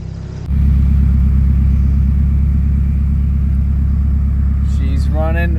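Turbocharged Nissan SR20DE front-wheel-drive engine idling on its first start-up, a steady loud low rumble that holds evenly, with a brief voice near the end.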